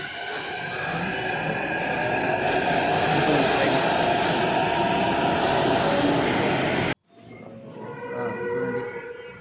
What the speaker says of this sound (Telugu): ఇంకా ట్రైన్ బయలుదేరింది చూడండి